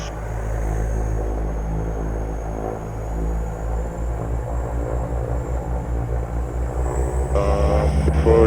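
A Winair de Havilland Twin Otter turboprop taxis before takeoff. Its engines give a steady, loud, droning rumble heard close by, and the pitch shifts slightly near the end.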